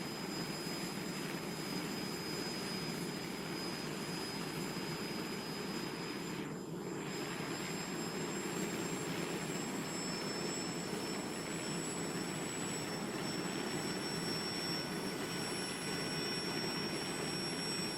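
Engine roar of Harold the helicopter taking off in a Thomas & Friends episode, a steady broadband aircraft drone with a high whine, holding at constant loudness throughout with no talk.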